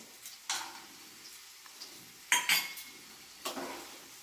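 A spoon stirs fried peanuts into spicy semolina in a pan, giving a few sharp scrapes and clinks spaced a second or so apart over a quiet background.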